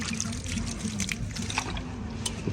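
Tap water runs and splashes while fresh thyme is rinsed for outdoor cooking, a close, uneven trickle with small spattery bursts over a low background rumble.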